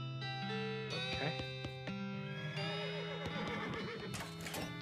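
Horse neighing in the Western-themed game West of Loathing, several whinnies with harmonic calls rising over a steady game music bed, with sharp clip-clop-like clicks scattered throughout.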